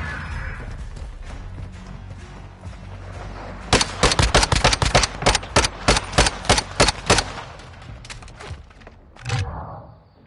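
Rapid bursts of loud video game gunfire from Call of Duty crackle in a quick string of about a dozen sharp reports, preceded by low rumbling and ending with a dull thud.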